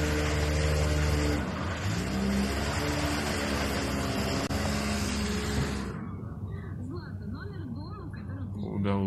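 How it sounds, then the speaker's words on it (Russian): An SUV's engine revs hard as it drags a burning Volga car away from a fire, a loud strained roar that rises and falls before easing into a quieter drone, with people shouting nearby. "как новосибирец на своем внедорожнике вытаскивает из огня чужую машину"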